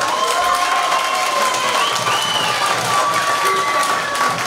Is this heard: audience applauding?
yes